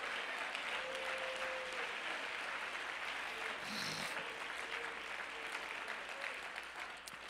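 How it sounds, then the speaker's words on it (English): A church congregation claps hands together in continuous, even applause that fills the room, with a faint voice briefly rising over it. "Amen. Let's clap our hands."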